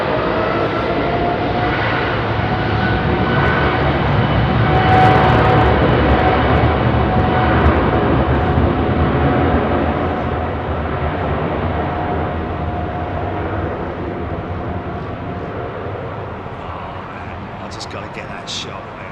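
A Cathay Cargo Boeing 747-8F jet departs London Heathrow, a loud sustained engine roar that peaks then slowly fades into the distance, with people talking over it.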